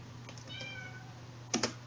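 A cat gives a single faint, drawn-out meow over a steady background hum, followed moments later by a couple of sharp keyboard-like clicks.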